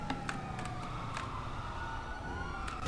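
A police car siren in the video game GTA V wails steadily throughout, with a rising and falling tone over continuous game noise and a few sharp clicks.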